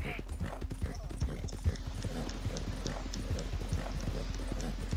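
Horse hooves clip-clopping in Red Dead, an irregular series of hoof thuds close by with a faint tonal hum behind, while someone talks over the steps.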